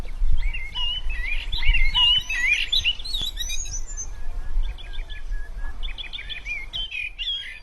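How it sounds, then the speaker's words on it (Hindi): Several birds chirp and trill in bursts over a low rumbling background, with calls coming and going. "फिर कुछ समय बाद पक्षी वहाँ आते हैं और आवाज करने लगते हैं"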